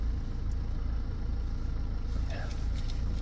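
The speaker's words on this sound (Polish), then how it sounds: "Dwumasy nie słychać, przyjemnie motor pracuje." Steady low rumble of a 2018 BMW X1 2.0-litre diesel engine idling smoothly, close and constant with no revving.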